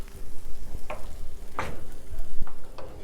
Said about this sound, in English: We'll just allow the onions and the sweet peppers to become a little tender